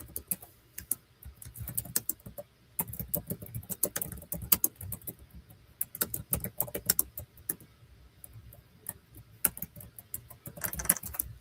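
A computer keyboard is typed on in irregular bursts of close, crisp key clicks with short pauses between runs, alone without talking.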